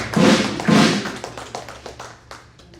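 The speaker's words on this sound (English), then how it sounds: "Please can we clap for him?" An audience at an academic investiture and induction ceremony claps for an honoree, starting with two heavy, close thumping claps and then scattered, softer claps that fade away.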